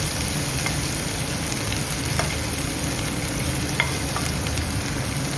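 Chopped onions fry in a pan, a steady loud sizzle with faint scrapes and taps as they are stirred, and no talking over it.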